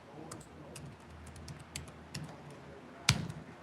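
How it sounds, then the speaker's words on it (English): Keys on a computer keyboard tap in quick, uneven bursts while text is typed, with one sharper, louder click near the end, all close and fairly quiet, with no talking. "And I'll just type in some text."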